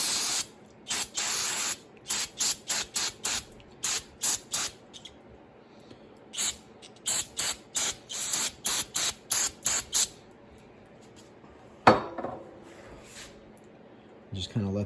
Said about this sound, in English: the brake parts cleaner, I use that to clean off the goof off